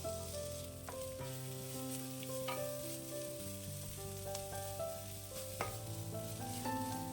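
Chopped tomato sautéing in a pan while making Kerala egg thoran, a steady sizzle and frying hiss with occasional stirring clinks, close and continuous with no talking.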